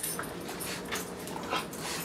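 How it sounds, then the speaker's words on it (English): Dogs whimper and whine in short, soft, high cries close by over a steady background hiss, with no talking. "Okay, listen for the dogs."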